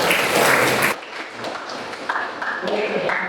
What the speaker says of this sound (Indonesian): Tepuk tangan untuk yang menjawab.